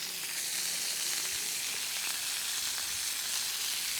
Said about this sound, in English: You just put a knob of butter on the top of it there.